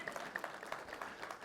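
Scattered applause from a church congregation, a few hands clapping unevenly over a second and a half, moderately faint and without talk over it.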